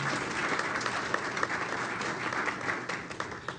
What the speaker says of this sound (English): I would like to give a huge round of applause to our Syndicated Sound Octet.